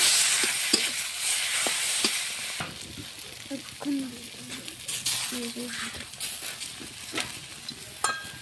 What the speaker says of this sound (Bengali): সবগুলো এখন কষিয়ে নিব।